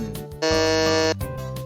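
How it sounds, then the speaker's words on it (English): A quiz-show buzzer sounds as a contestant buzzes in, a loud, steady, harsh electronic tone lasting under a second, with a voice briefly before and after it. "Someone buzzed in, so I had to stop."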